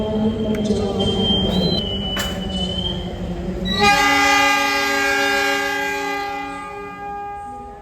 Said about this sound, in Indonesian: Persiapan berangkat kereta api Mutiara Selatan dari stasiun Madiun.